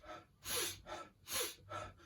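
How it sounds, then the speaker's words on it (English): Forceful Wim Hof-style breathing exercise: three loud, close rushes of breath, each a sharp inhale-exhale burst roughly every three quarters of a second, alone without talk. "and that's a breathing like this"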